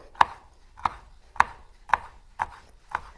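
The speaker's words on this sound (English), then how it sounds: "I'm just going to slice these" A knife slices through zesty vegetables on a cutting board, six crisp evenly spaced chops about half a second apart, close and clear with no talking.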